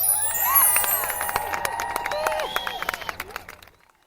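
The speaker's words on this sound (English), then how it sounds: "Isn't it nice to get a round of applause for being clever?" A small group claps and cheers nearby, with scattered claps over excited voices, before the applause quickly fades to silence.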